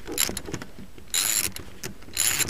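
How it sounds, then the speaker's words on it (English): Ratchet fitted with an extension loosening the coil pack bolts on an engine: three bursts of quick, close metallic clicking, separated by short quiet gaps. "I'm going to start pulling the bolts out of the coil pack"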